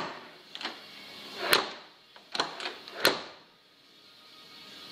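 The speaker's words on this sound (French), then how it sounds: "Ah ça fait un bruit de porte qui ferme." Parts of a Land Rover Discovery under restoration are handled, giving several close clunks and sharp knocks like a door being shut, spread unevenly over a few seconds with quiet between them.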